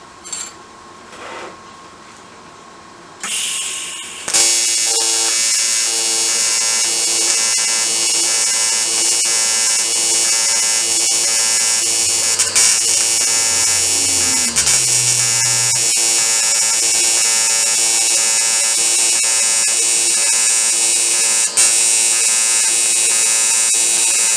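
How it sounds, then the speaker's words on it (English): A welder pulse welds a bicycle frame joint with a steady, loud electric hum and buzz that starts after a few seconds and holds, a faint pitch change partway through, with no talk. "So we will try to pulse weld it, because that worked really well last time."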